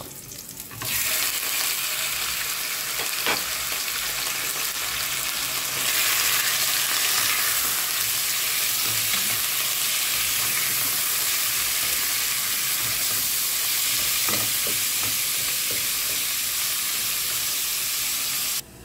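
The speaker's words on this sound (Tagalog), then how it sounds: "Sunod natin ang ating manok." Steady loud sizzling of chicken frying in a pan, a continuous hiss with occasional stirring clicks and scrapes throughout.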